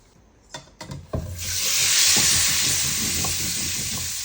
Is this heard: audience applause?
no